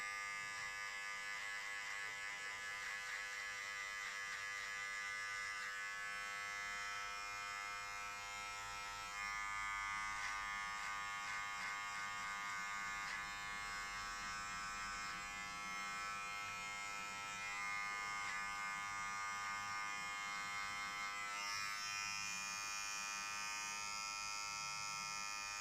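Electric hair clippers trim a beard with a steady, close, high-pitched buzzing hum that runs continuously with slight shifts in tone as the blades move through the hair.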